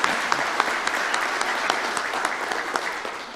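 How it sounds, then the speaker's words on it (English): A banquet audience claps steadily, a fairly close crowd with dense hand claps and a few sharper individual claps standing out, keeping an even level for a few seconds. "Let's give them another round of applause"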